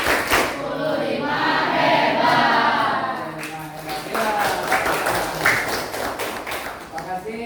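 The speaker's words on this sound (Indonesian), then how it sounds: "Ayo, tepuk hebat" Audience at a teacher training session doing a patterned group clap, many hands tapping and clapping in quick bursts, close and lively, with voices chanting and talking among the claps.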